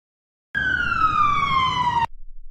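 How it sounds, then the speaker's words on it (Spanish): A steady electronic siren tone sliding slowly downward, loud and close, lasting about a second and a half before cutting off abruptly. "Es la sirena de emergencia."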